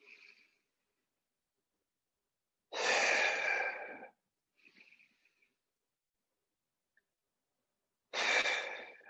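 Slow, deep breaths during a mobility exercise class, with two long, loud, close exhalations about five seconds apart and faint softer breaths between them in otherwise silent surroundings.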